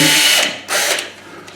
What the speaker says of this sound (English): All I'm going to do is drill the holes where the eyes are.